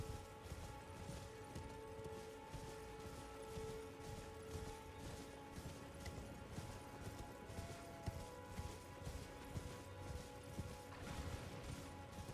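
A horned horse gallops in the Elden Ring video game, with a steady rhythmic clip-clop of hooves set against a quiet, sustained musical background.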